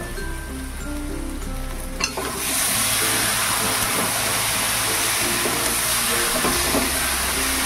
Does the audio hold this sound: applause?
no